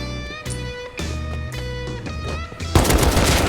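Automatic gunfire in the survival game Rust during a fight on an oil rig: rapid bursts of close, loud shots with brief pauses, ending in a denser, harsher blast.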